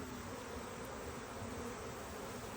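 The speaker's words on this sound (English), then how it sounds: "this one seems to be a little on the aggressive side today." A steady, dense buzzing of many honey bees around an open hive, continuous and fairly close, with no pauses or voices.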